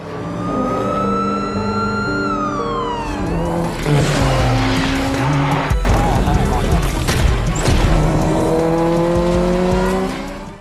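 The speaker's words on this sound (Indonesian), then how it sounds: "langsung menggaspol mobil pergi ke lokasi balapan" A racing car speeding toward a race track, its engine rising and falling in pitch with tire squeal, loud and continuous over a dense mix of music or effects throughout.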